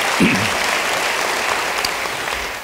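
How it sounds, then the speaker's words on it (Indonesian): A church congregation claps continuously, a dense, steady wash of applause that fades slightly at the end. "Beri tepuk tangan bagi dia"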